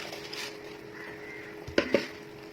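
A spoon stirs rice into boiling water in a biryani pot, two sharp scraping clinks near the end over a low steady background hum.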